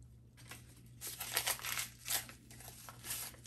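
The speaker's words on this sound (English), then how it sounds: "And I just like to unwrap them" Tea bag paper wrappers are torn and unwrapped by hand at close range, with soft crinkling and tearing rustles coming in short bursts in an otherwise quiet kitchen.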